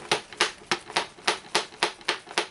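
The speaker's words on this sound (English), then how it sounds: "Something clicking in the box there, which I'm not quite sure what it is." Something clicks inside a Lego box: nine sharp, evenly spaced clicks about a quarter second apart, close and crisp, with no voice.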